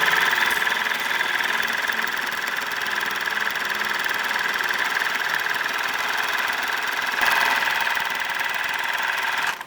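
A sewing machine stitching down a collar on a sheer button-down crop top, a steady mechanical hum and whir running continuously and close, with no talking.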